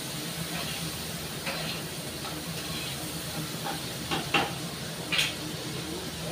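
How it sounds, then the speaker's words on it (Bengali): Shrimp frying in a pan with salt, a continuous hissing sizzle with a few louder crackling pops near the end, close and steady. "মাছটা, চিংড়ি মাছটা একটু লাল লাল করে ভেজে নেব।"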